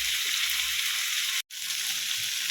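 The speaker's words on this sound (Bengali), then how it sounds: "আর ক্যাপসিকাম দিয়ে ভেজে নেব।" Chicken sizzling in hot oil with onion, capsicum, chopped ginger, garlic and chili for chilli chicken, a steady loud frying hiss with a brief break in the middle.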